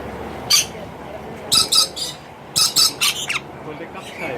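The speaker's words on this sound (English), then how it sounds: "I'm at the parrot zone and I'm gonna feed some parrots" Parrots at a parrot feeding zone give loud, harsh squawks in short clustered bursts, close by, over a low background murmur.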